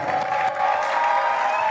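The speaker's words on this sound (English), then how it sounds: "Keep on clapping, don't stop, don't stop, don't stop." A conference audience at a large African event keeps up continuous, dense applause and clapping, with a crowd murmur throughout and a faint cheer mixed in.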